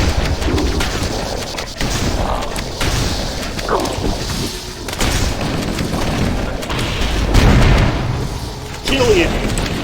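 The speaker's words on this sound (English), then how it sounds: "Lots of plasma grenades." Repeated booming plasma grenade blasts and crashing impacts fill a busy Halo firefight, dense and loud throughout, with a voice talking over the chaos.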